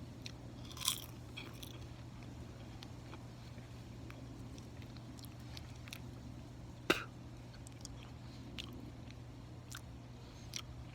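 A wilted green autumn leaf being bitten and chewed, heard as faint sporadic crunches and soft chewing clicks with a sharper bite near the start and another midway, over a quiet steady background hum.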